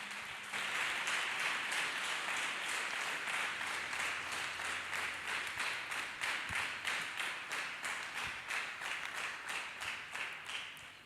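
A church congregation claps hands together, a steady, rhythmic sustained round of clapping with regular pulses, fairly even in loudness and without talk over it.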